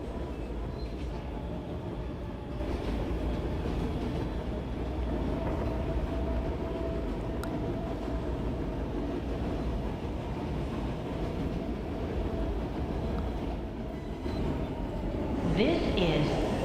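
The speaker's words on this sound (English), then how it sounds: "Manhattan-bound B local train." A Manhattan-bound B local subway train in an MTA rail simulation game makes a continuous rolling rumble with rail clatter and a brief high squeal near the end, and a voice talks over it at times.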